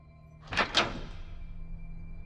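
A bedroom door opened quietly inside a house at night, two soft close thuds followed by a fading creak in a hushed room.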